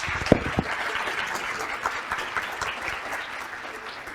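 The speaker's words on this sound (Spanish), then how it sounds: "Un aplauso para Viviana y Eduardo, por favor" Audience at an academic closing session applauds two people, a steady wash of clapping with a few sharp, close claps standing out near the start.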